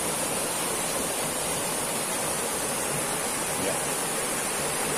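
A river stream flowing steadily, a dense even rush of water close by that fills the whole stretch without pause, with a brief word spoken once.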